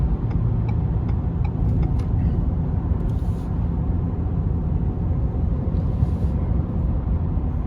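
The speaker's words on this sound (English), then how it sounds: "So like going up this rise here, this little overpass, it's kind of lugging a little bit." A Ford Super Duty truck's engine lugs uphill while towing a trailer, a steady low rumbling drone heard from inside the cab with occasional faint ticks over the road noise.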